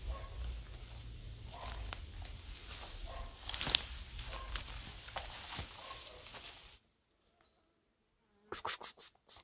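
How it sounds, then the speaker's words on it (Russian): Bees flying around outdoors on an overcast, cold day, gathering nectar; a steady faint buzzing and rustling fills the first part, then near-silence, followed by a few short louder bursts at the end. "на улице пасмурно и холодно, а пчелки летают, собирают нектар еще"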